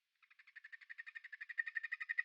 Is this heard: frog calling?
yes